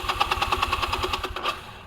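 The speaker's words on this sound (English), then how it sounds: "There it goes. The bike's running, starting right on up" Motorcycle engine just started, from a Honda to a Harley-Davidson range, running with a rapid regular chugging pulse at close range, steady for most of the moment before easing slightly.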